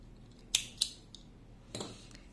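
A couple of quick crisp snips of scissors cutting yarn from a crochet boho phone bag, followed by a softer rustle and a faint final clip, close and quiet.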